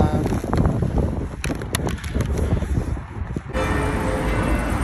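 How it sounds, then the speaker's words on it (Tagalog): Strong wind buffets the microphone in a loud, continuous roar with gusty surges and no clear voices, at Town Hall Square in Copenhagen, Denmark. "Yan o, sa lakas ng hangin."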